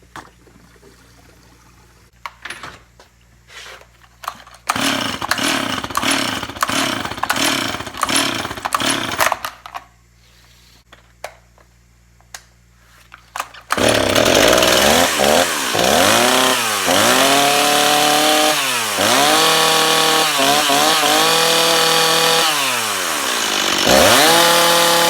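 A Stihl MS 260 chainsaw, just fitted with a new fuel tank, sputters through a few short pulls and bursts, then starts and runs loud and close for about ten seconds, blipping its throttle repeatedly between idle and high revs.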